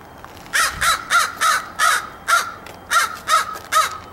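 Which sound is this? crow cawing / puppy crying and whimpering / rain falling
crow cawing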